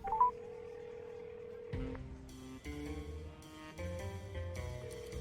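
A phone is being dialed in a comedy episode: a single steady tone, then a run of short beeping dial tones of different pitches, one after another, moderately loud and close.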